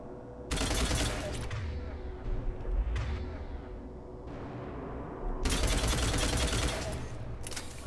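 Bursts of rifle fire in Mass Effect 3, loud and sustained, with sharp volleys rattling off in rapid succession, pausing briefly, then resuming in a dense stream.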